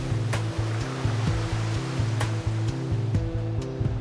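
Ocean surf breaking along a beach gives a steady, full wash of noise under a looping low music bed, constant and fairly loud.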